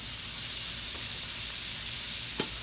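Buttered buns on a flat top griddle give a steady, even sizzle and hiss throughout, with one brief sharper crackle near the end and no talking.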